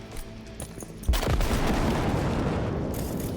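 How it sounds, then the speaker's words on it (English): A grenade bursts with a loud sudden boom in Cyberpunk 2077, after a few sparse gunshots, followed by a long rumbling wash of debris and noise that carries on to the end. "I get to throw this grenade so it will hit no one"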